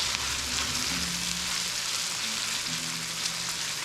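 Bacon goes back into a hot pan with Brussels sprouts and gives a steady, even sizzle. A low hum runs underneath, and no one speaks.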